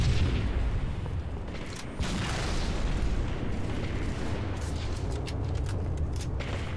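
A grenade explodes in a first-person shooter match: a heavy, rumbling boom with noisy debris and a lingering roar, loud and sustained, followed by scattered sharp pops.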